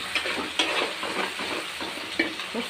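Ground cumin frying in cooking oil in a pan, giving a steady close sizzle with a few sharper scrapes and clicks as it is stirred, and no voices.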